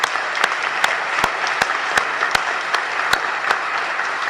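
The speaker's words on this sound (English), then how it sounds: "everybody, give them a round of applause again" A congregation applauds steadily after final remarks honoring a new priest's parents, a dense even wash of clapping with a few sharp, louder claps standing out at regular intervals, with no talk.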